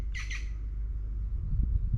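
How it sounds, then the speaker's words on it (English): A woodpecker gives one brief, harsh double squawk at moderate distance, followed by low outdoor rumble. "That's a woodpecker."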